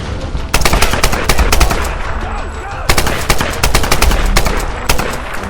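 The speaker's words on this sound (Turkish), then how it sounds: "Silahı sevdim. Silah sanırım ve AK-47." AK-47 gunfire in the video game Tomb Raider 2013: loud, close bursts of rapid automatic shots in two long strings separated by a brief pause, with faint voices underneath.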